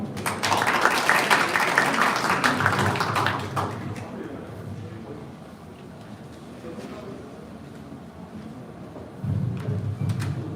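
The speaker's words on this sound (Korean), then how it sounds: "큰 박수 부탁드립니다." Audience applause at a Korean presentation or forum, a dense clatter of clapping for about four seconds that fades to quieter room noise, followed by a brief low rumble.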